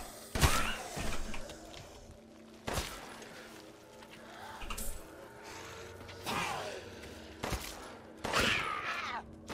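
Shotgun and pistol fire in the video game Resident Evil Village: five sharp, loud gunshots spaced unevenly across several seconds, with game noise rumbling between them.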